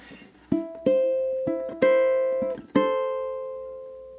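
Solo ukulele picks the ragtime melody of Scott Joplin's The Entertainer, a handful of plucked notes and chords ringing out clearly and decaying, with no voice.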